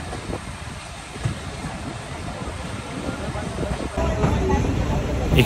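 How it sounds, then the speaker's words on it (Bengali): A local passenger train pulls out of a rural station, a steady rumble and hiss that builds louder toward the end, with people talking faintly in the background. "স্টেশন থেকে ট্রেনটি যখন বের হচ্ছিল"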